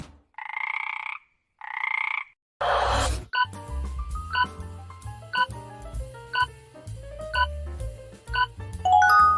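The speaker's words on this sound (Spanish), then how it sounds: "Es una rana." A frog croaks in two short buzzy calls, loud and close, in an animal-sound quiz. Light chiming music with a bell-like ring follows, with no talking.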